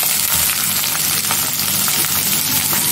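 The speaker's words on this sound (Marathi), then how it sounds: "आता त्यात हिरव्या मिरच्या टाकते। त्यात घेतलेला मी कांदा आहे, तो कांदा टाकते।" Onion and green chilies hit hot oil with popped mustard seeds, giving a loud, dense, steady sizzle right up close, with faint stirring and no voices.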